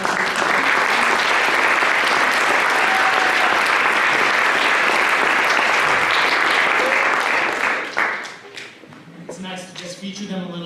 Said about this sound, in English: Can we give another just big round of applause for Paynesville Jazz?